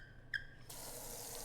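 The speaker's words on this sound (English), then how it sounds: "Water begins running into the sink." Faucet water begins running into a bathroom sink in the Spirit Hunter NG game, a steady broadband rush starting abruptly after a faint squeak of the tap and continuing alone at a moderate level.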